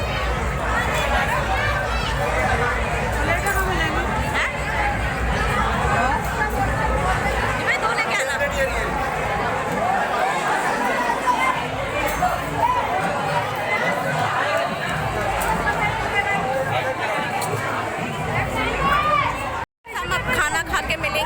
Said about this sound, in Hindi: यहाँ भीड़ बहुत है, शोर बहुत है